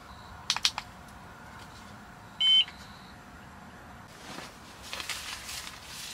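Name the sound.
carbon monoxide alarm beeping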